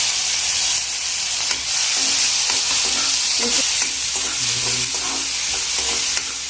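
Cumin, chopped garlic and green chilies sizzle loudly in a hot pan, a steady dense hiss close up with occasional light stirring clinks, and no voices.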